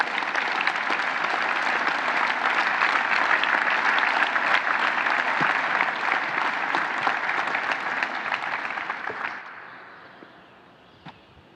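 A large audience at an Infonavit general assembly held at Palacio Nacional claps loudly and continuously for the institution's founders, then the applause fades out over the last couple of seconds.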